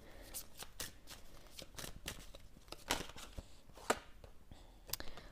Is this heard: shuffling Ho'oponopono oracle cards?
yes